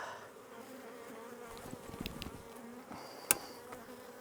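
Dense buzzing of a strong honeybee colony in an open hive, a steady close drone with brief louder bursts as bees fly near.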